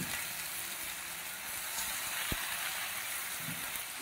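Chopped spinach is dropped into a hot frying pan, giving a loud continuous sizzle and hiss with a single sharp knock partway through.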